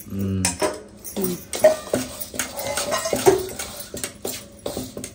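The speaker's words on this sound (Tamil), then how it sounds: "அப்படியே கரண்டியாலே மிக்ஸ் பண்ணிக்க வேண்டியதான்" A ladle clinks and scrapes against a pot as palm kozhukattai batter is stirred, irregular metallic knocks and swishes close by, with a voice faintly mixed in.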